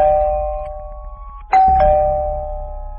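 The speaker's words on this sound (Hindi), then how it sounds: "घर की डोरबेल बजाता है" A two-tone doorbell at a house door sounds in an animated horror story. A sustained chime is followed by a second ding-dong that rings out and decays, with no talking.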